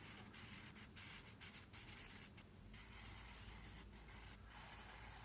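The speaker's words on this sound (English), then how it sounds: "For the base color, I'm spraying the standard dark ghoul grey to add some contrast." Dark gull grey paint is airbrushed onto a 1/48 scale Meng F-4G Phantom II model, giving a faint, soft spray hiss broken by several short pauses.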